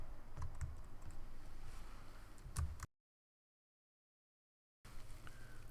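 Rapid clicking keystrokes on a computer keyboard are typed steadily and close by. They break off into a couple of seconds of silence, then resume briefly.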